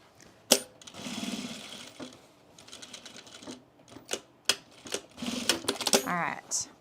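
A sewing machine stitches a tab onto cargo pants in short rattling bursts separated by pauses, close and moderately loud, with a person talking over parts of it.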